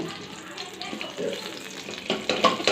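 Green chillies frying in a pan while a metal spatula chops and stirs them, giving a close sizzle with scraping taps that grow louder toward the end.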